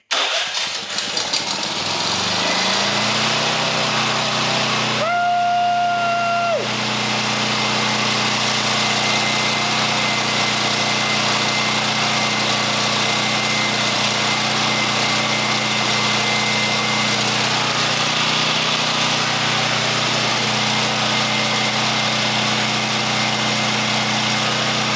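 A Champion portable generator, just reassembled after repair, cranks and catches, then runs steadily at a loud, even idle with a constant mechanical hum for the rest of the stretch.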